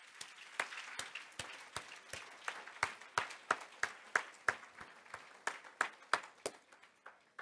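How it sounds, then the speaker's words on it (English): Applause at a philanthropy fund breakfast in a hotel, heard as fairly faint, distinct individual claps in a loose rhythm over a soft background of more scattered clapping. "Let's give a round of applause again for all of our amazing sponsors."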